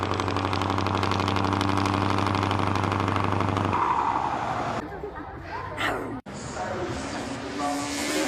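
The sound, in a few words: supercharged car engine running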